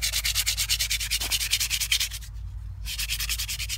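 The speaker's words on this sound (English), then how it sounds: "So now I'm gonna take some uh, 150 grit sandpaper just kind of" Cured whipping on an axe handle being sanded by hand with 150 grit sandpaper: close, rhythmic back-and-forth rasping strokes, a short pause, then more strokes, with no talk.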